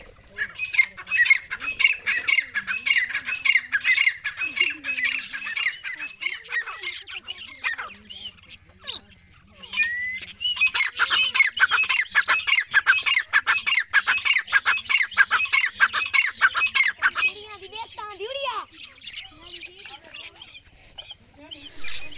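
Dense, chattering squawks and chirps from many small parrots and birds kept at a house, loud and close, with a short lull midway before the racket resumes; a voice is faintly heard.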